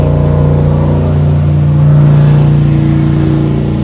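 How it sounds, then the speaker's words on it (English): Motorboat with a rooster tail passing on water along the road to Whitehorse in the Yukon, a loud steady engine drone that swells slightly in the middle as it goes by, with a faint higher whine. "We can hear a boat."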